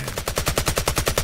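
Rapid automatic gunfire in the video game Incursion: Red River, a steady fast stream of shots at an even rhythm through the whole short burst, with no talk.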